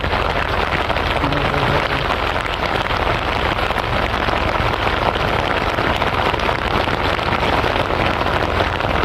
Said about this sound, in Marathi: जोरदार पाऊस आलेला आहे मित्रांनो.